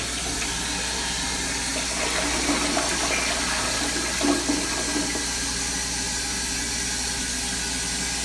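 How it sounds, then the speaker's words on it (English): A rebuilt ProFlo Jarret toilet with a Fluidmaster fill valve flushes in a men's room, a steady rushing water roar lasting throughout, swelling slightly in the middle with gurgling surges, close and continuous. "now it flushes a lot better with more power and more vigor"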